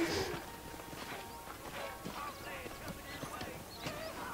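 Hooves clip-clop quietly and steadily in the video game Red Dead Redemption as a horse walks, with faint background sounds and a voice in the mix.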